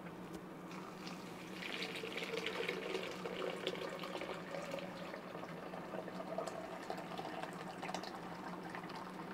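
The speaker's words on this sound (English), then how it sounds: "you use fresh, cold water, and we'll fill it up to the where it meets the black" Cold water runs steadily into a Bodum cold press coffee pot, a soft continuous pour and fill heard alone at low volume for several seconds.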